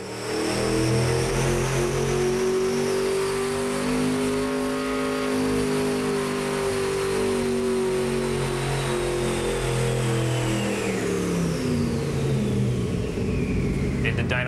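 A 1,471-horsepower Camaro engine revs hard at full throttle, a loud, sustained roar with rising and falling pitch that holds steady near the microphone for the whole stretch.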